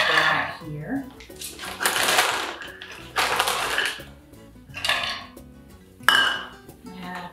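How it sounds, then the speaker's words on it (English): A Ninja chopper whirs through a cup and a half of walnuts in a home kitchen, in several loud bursts separated by short pauses, with rattling and clattering of nuts against the bowl. "now I'm going to chop a cup and a half of walnuts"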